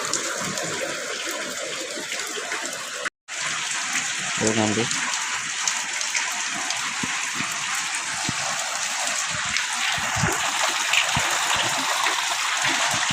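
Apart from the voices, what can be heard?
heavy rain pouring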